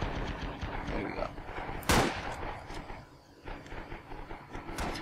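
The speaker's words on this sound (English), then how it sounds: "I actually like this bolt action rifle. It's actually the Arisaka." Arisaka bolt-action rifle fired in the World War II shooter Red Orchestra 2 on Guadalcanal, with one sharp loud crack standing out over a busy backdrop of distant battlefield gunfire, and a voice talking underneath.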